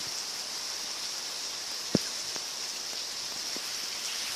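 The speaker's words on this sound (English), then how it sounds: "it's wet and rainy" Steady rain falling outdoors near a lake, a continuous even hiss with occasional distinct drops tapping nearby, no voices.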